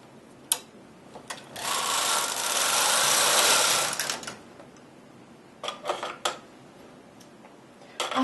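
A domestic knitting machine carriage is pushed across the needle bed for two rows, giving a loud mechanical whirring rattle of about three seconds, framed by sharp clicks and clacks of the carriage before and after.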